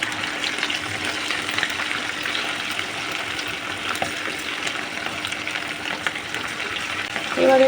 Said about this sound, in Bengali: এবারে এগুলো একটু ডিপ ফ্রাই করলেই ব্যাস হয়ে যাবে।